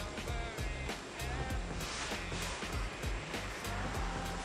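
Hot water pours steadily into an ordinary bowl, a continuous close rushing splash with a faint pulsing rhythm and no voices.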